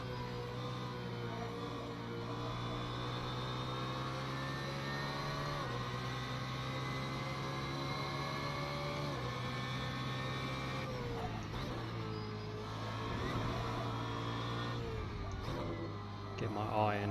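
A GT3 race car in a racing video game doing installation laps at Suzuka: a steady, droning engine note that holds for long stretches, shifts pitch a few times and stays moderately quiet throughout.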